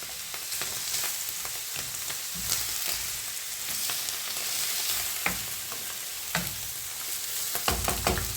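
Onions, garlic and mushrooms seasoned with black pepper frying in a pan for risotto, a steady bright sizzle with scattered scrapes and clinks of a utensil stirring throughout.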